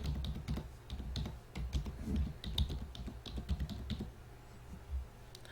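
Keys clatter in quick, uneven bursts as an email address is typed into a Paytm profile, close and fairly loud with no talking.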